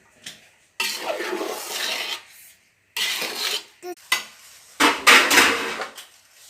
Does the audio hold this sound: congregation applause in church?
no